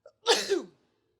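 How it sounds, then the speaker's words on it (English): A single sharp sneeze from a man whose nose was irritated by weed whacker debris, preceded by a brief faint intake, loud and close with a short trailing tail, no talking. "The weed whacker cleaned out my nose, and then I had to sneeze a couple times."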